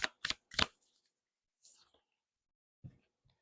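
Tarot cards are shuffled in three quick, crisp riffling bursts close by, followed by soft whispery rustles and a brief low murmur of a voice.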